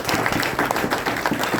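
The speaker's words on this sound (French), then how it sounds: "Merci d'applaudir ces éminences qui sont déjà à côté de nous." Audience at a university thesis defense ceremony applauding, a loud, continuous burst of many people clapping close by, filling the whole short stretch without speech.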